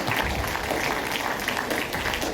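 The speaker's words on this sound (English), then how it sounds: "Give them a round of applause." Audience at a dental college graduation day ceremony applauding, a steady dense wash of clapping that holds at an even level from start to finish with no voices standing out.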